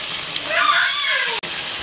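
Onion with chili powder, turmeric and salt frying in hot oil in a village kitchen gives a steady, close broadband sizzle with a brief dropout near the end, no voices.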